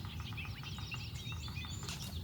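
Several birds sing and chirp outdoors in the Maine woods during a spring turkey hunt, their overlapping high calls steady and moderately distant over a low rumble of background noise.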